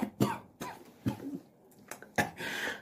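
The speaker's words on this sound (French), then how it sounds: "La toux." A person gives a series of about five sharp, close coughs spaced irregularly, some ending in throat clearing, with no talk between them.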